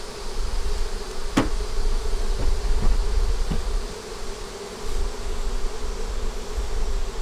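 Honeybees buzz steadily around a hive with a deep box and honey super, a continuous dense hum with a few brief knocks, nearby and fairly loud.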